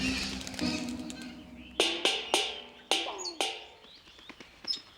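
Gluttonous mountain parakeets in rural Sichuan give a series of sharp, clear calls, several distinct chirps in an uneven sequence against a quiet background, fairly close and not loud.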